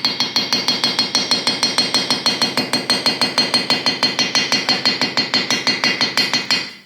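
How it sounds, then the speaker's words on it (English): A small hammer taps lightly and rapidly around a gasket edge on a Harley-Davidson Panhead engine, in a steady, even rhythm, about six crisp metallic ticks per second, close by and uninterrupted. "you're just going to go around the edge and give it a slight tap"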